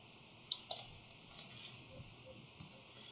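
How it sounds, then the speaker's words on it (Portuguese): A computer mouse clicks a few times in a quiet room, with a pair of sharp clicks near the start and a couple of fainter ones later, while someone works on a PowerPoint presentation. "Vem, clica no botão direito"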